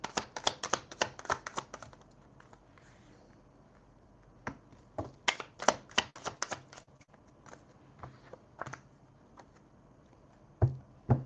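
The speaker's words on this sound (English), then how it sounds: "You heard me shuffle the deck, right?" A deck of tarot cards is shuffled close by in quiet surroundings, giving bursts of sharp crisp riffling snaps in quick clusters separated by short pauses.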